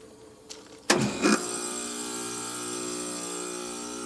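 A 2016 Ruud heat pump starts up after a defrost cycle with a sharp clunk and a short burst of rushing noise, then settles into a steady mechanical hum, fairly faint and heard alone.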